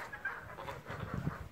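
Farmyard hens clucking in short, soft bursts at moderate distance, with light rustling and no talk.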